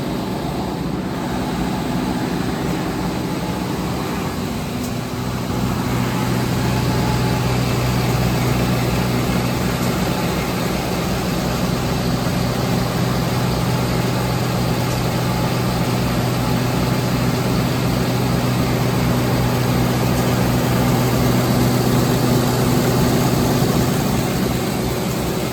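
A belt grinder sands thin stainless steel, giving a steady, dense broadband roar with a low hum that holds unbroken for the whole stretch, with no voices.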